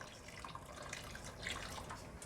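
Water is added to a pot of drained rice for Bukhari rice with chicken, a faint close pouring and trickling with small splashes and drips, no talking.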